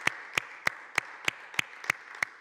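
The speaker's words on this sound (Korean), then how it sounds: "예, 우리 박수 한번." Clapping during an online church prayer service, a slow, even rhythm of eight distinct, evenly spaced claps over about two and a half seconds, sounding like a single pair of hands close by rather than a crowd.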